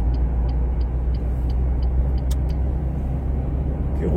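A car overtaking a slow van on a road, heard from inside as a steady low engine and road rumble with a few faint clicks, loud and continuous with no talk.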